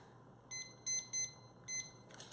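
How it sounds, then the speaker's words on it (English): A kitchen timer gives four short, high electronic beeps as it is set, spaced unevenly over about two seconds, fairly faint in a quiet kitchen beside a multi pot. "I'm going to set a timer for 7 minutes"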